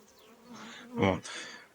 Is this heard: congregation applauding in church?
no